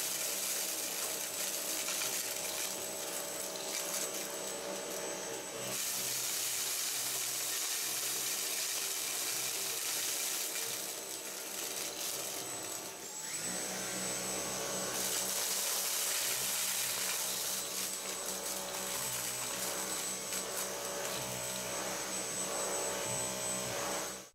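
A Dyson Cyclone V10 cordless vacuum with its direct drive head runs in low power mode while cleaning left, right and front edges. A steady whirring drone carries throughout, with a few shifts in tone and brief rattling, and nobody speaks.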